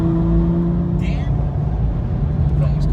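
A BMW M3 downshifting at a car meet: a loud, steady low engine roar with a deep rumble that holds throughout, close by, with voices talking over it.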